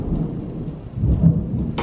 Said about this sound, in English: I knew I was hearing thunder.